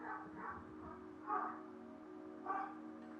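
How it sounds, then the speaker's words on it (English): A dog in the video game Beyond a Steel Sky barks a few times, three muffled, distant-sounding woofs spaced about a second apart over a steady low game ambience. "hear the dog barking, I might have to go investigate"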